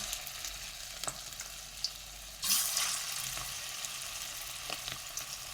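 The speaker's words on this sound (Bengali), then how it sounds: "আমি এরকম ছোট ছোট সাইজের বড়া শেপে তেলের মধ্যে দিয়ে দিচ্ছি" Small cabbage pakoras are dropped into hot oil and deep-fried, giving a steady close sizzle with a louder burst of bubbling in the middle as more batter goes in.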